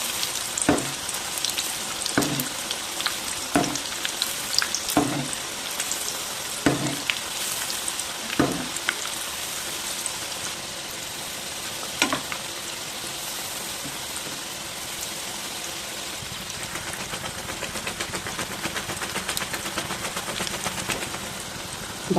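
Chapati frying in sunflower oil in a pan, a continuous close crackling sizzle with several sharper pops and spatters early on that settle into an even hiss, with no talking.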